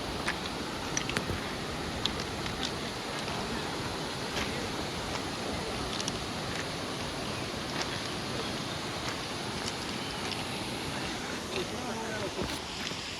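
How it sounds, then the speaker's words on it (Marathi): Water rushes steadily at the Ranpat waterfall on a jungle trek, a broad continuous roar with faint voices in the background. "रानपाटचा पूल धबधबा"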